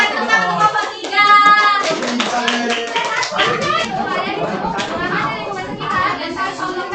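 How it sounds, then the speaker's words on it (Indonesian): Students in a high school classroom clap for a peer-teaching group, a burst of hand claps mixed with children's chatter and voices, loud and close. "Berikan tepuk tangan untuk kelompok 3"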